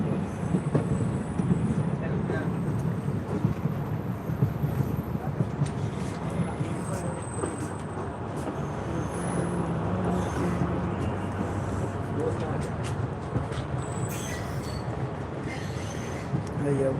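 Train arriving at Muzaffarpur railway station in India, a continuous rolling rumble of wheels and carriages with occasional high squeals and clanks, sustained and steady throughout, with faint voices mixed in.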